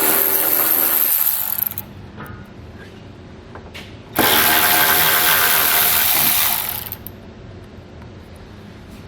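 Rapid ratcheting from a 10mm socket removing nuts on the underbody panel of a 2016 Kia Optima, with two loud sustained bursts of clicking separated by a quieter stretch, close up.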